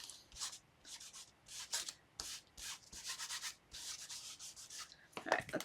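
Paper layer being rubbed down onto a birthday card by hand, a run of repeated dry rubbing strokes in short bursts, close and fairly quiet, ending with a brighter scuffing burst.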